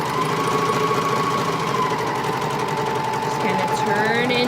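A serger sewing machine stitches a seam on a maxi skirt, giving a steady, close mechanical whir and rapid chatter that runs unbroken through the whole stretch, with a voice talking over it.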